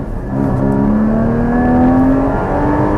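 Loud in-cabin roar of a Porsche Cayman GT4 under full throttle in fourth gear, engine note climbing steadily as revs build, sustained and close with no talking.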